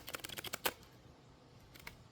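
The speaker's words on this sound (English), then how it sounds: "I've been shuffling the cards" A deck of cosmic tarot cards is shuffled close by: a quick burst of crisp, clicking card flicks, then a short pause and a few more soft flicks, all quiet with no voices.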